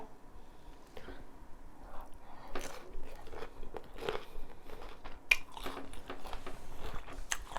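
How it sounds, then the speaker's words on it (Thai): Close, crisp crunches as a whole chili pepper is bitten and chewed, irregular bites and mashing across the stretch with a faint room background and no talking. "พริกอันนี้ เราลองกินเป็นเม็ดดูมะ ว่าจะเผ็ดเยอะมะเนาะ"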